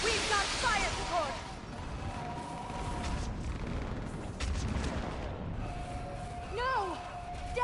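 Heavy gunfire and booming fire support from the video game Mass Effect 3 roll through a dense battle mix, several deep blasts landing under voices and layered combat noise.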